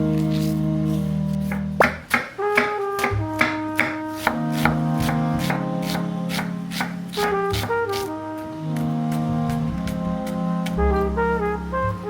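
A knife chopping cilantro on a board for pico de gallo, with a rapid run of crisp chops in uneven bursts over background music.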